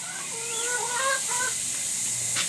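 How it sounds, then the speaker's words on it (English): Chickens clucking in a small backyard run beside a coop, several birds giving short rising clucks close by, with a steady high background hiss. "This is the small chicken run."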